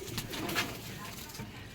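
Male Kalanka green pigeon cooing softly at close range, a few low soft calls with faint chatter and handling noise around it.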